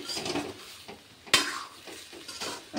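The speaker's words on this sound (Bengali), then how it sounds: "আবার একটু নেড়ে দেব।" A spoon stirs papaya and cabbage curry with potatoes and slit green chillies in a pan, giving soft scraping and gentle sizzling with one sharp clack against the pan midway, close and alone.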